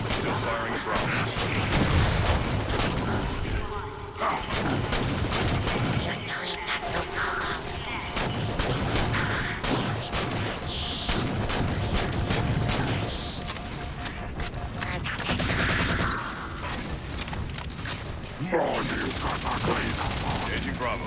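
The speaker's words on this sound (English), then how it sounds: "Still firing at Bravos." Rapid sustained gunfire and explosions in the Halo 4 video game, with dense overlapping bursts of shots and booms filling the whole stretch, loud and continuous, with game radio chatter mixed in.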